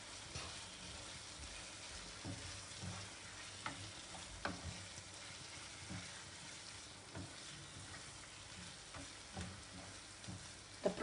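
Prawn vindaloo being stirred in a pan, with a steady soft sizzle of frying and scattered scraping clicks of the spoon against the pan, fairly quiet and close, no talking.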